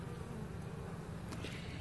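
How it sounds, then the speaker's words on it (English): A dense, steady hum of many honeybees buzzing around a hive in spring, continuous and fairly soft with no voices. "look at all the bees bubbling out of this."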